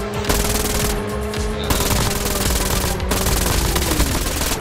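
Rapid automatic gunfire from the mobile shooter game Call of Duty Mobile, dense sustained bursts of shots filling the whole stretch, loud and close, with game effects underneath.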